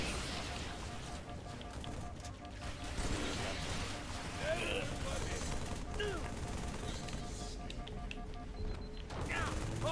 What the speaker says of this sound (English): Sit around and keep firing and keep firing and keep firing.